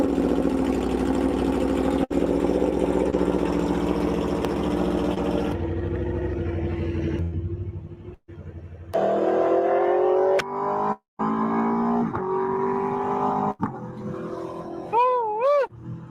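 An Aprilia X Trenta motorcycle engine runs steadily and loud at close range, shifting in tone as the bike rides, with brief cut-outs and rising whine near the end.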